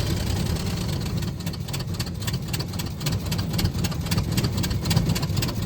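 A 1921 Ford Model T pickup engine runs steadily as the clutch is let out, a loud, continuous mechanical rumble with rapid pulsing, pulling uphill without pause.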